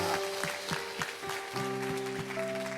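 A church audience at a New Year revival meeting applauds steadily with a dense, continuous clatter of clapping, while sustained musical tones ring underneath.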